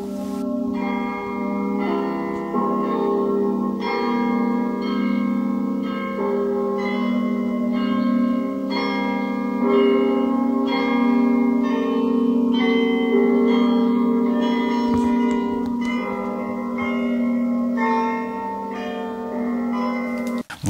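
Church bells ring continuously in a dense, overlapping peal, loud and sustained with a rhythmic series of strikes over a humming resonance and no voices.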